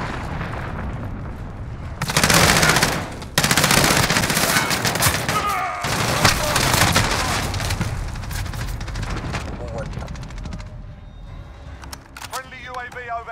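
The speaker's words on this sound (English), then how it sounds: "Allied cruise missile away." Call of Duty Modern Warfare multiplayer battle: heavy booming blasts and bursts of rapid gunfire rip through, loud and close, with a radio voice speaking over the chaos and scattered shots trailing off.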